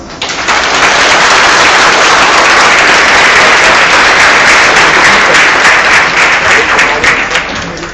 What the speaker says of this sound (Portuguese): Bata palmas.